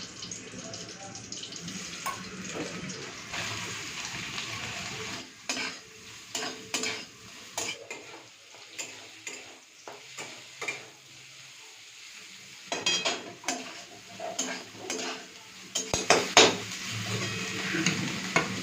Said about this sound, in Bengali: তো ওই তেলেই আমি সয়াবিনটা ভেজে নেব।